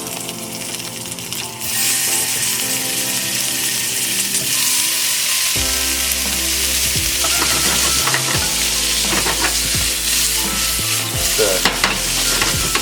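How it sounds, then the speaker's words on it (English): Bacon sizzles loudly and steadily in a hot pan, a dense crackling hiss with occasional scraping and clinking from utensils, no talking. "You hear some sizzle, we're good to go."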